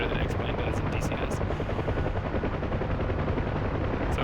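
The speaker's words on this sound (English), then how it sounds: "you can fly helicopters, you can fly this thing" A Huey helicopter flying in the DCS combat flight simulator game, with a constant, dense rotor thump and engine roar at close range and a few sharp clicks early on.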